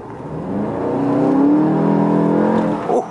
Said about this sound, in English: And I want to give it a little more gas.